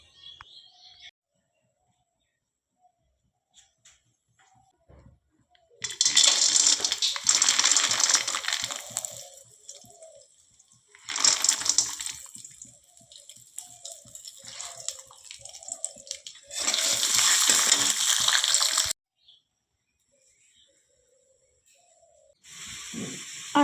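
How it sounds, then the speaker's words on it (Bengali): Peanuts frying in a pan with a loud sizzling hiss in three long bursts, separated by quieter stretches and occasional small clinks, with another sizzle starting at the end; no talking. "এখন আমি বাদাম ভাজবো আর ঘুগনি করব"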